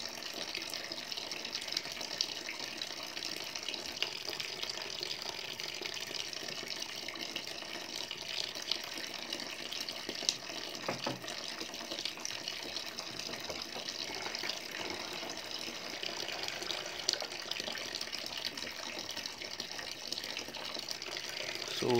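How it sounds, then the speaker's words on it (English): Water drains steadily from a storage tank through an opened tap, a continuous hissing, gushing flow heard up close with little change throughout. "Now I'm gonna open the tap and the tank will drain."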